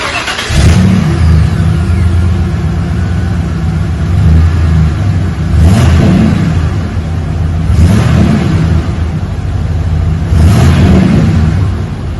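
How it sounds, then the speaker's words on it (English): A 1995 Ford Bronco V8 exhaust through a Magnaflow XL Turbo muffler rumbles loudly and closely, with a deep mellow idle swelling into four revs spaced a few seconds apart. "Put a Magnaflow XL Turbo muffler on it to give it a nice mellow tone sound."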